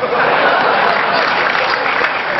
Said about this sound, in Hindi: तालियां जरा जोरदार वाली सुजानगढ़ वाली बजाई